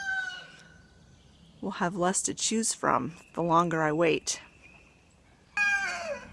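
Roosters crowing near a big oak tree on a homestead, with a long crow rising in the middle and another at the end, mixed with a person talking close by.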